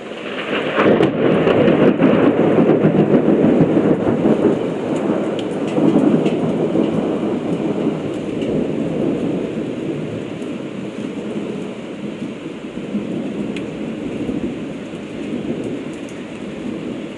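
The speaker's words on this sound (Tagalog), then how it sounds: "Lakas ng kulog." Loud, sustained rumbling thunder rolling on for many seconds, with a steady wash of rain or storm noise underneath and no voices.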